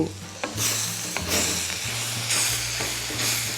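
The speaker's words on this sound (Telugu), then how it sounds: "శనగపిండి వేసాం కదా అది కొద్దిగా వేగుతుంది ఇప్పుడు" Steady, close sizzling of besan and capsicum frying in a pan, with occasional scraping stirs over a continuous hiss and no voices.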